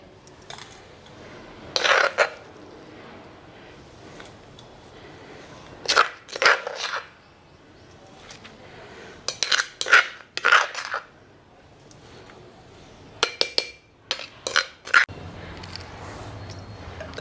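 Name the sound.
pounding mutton keema coarsely in a stone mortar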